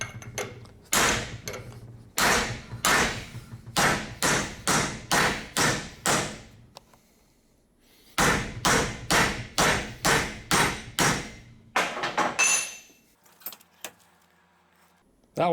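A welded steel test piece being forced and bent after MIG welding, giving a string of loud, sharp metallic knocks and thuds in two bursts, roughly a dozen blows each, separated by a short pause.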